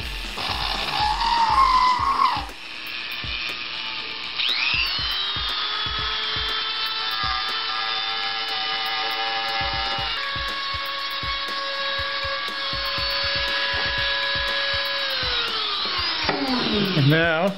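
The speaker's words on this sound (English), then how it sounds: "we're going to grab a Dremel with a tiny little burr bit in it, and we're going to make the slotted part of the keyhole" Dremel rotary tool with a tiny burr bit cuts the slotted part of a keyhole in an Enigma Stick kit part, a steady high whine held for long stretches with pitch dips and scraping ticks, close and loud, alone.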